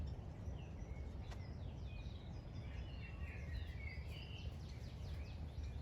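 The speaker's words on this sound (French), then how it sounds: "Vous pouvez entendre les oiseaux qui chantent aussi." Birds in a palm garden in Santa Cruz chirp and sing faintly in scattered short phrases over a steady low background hum, with no talk.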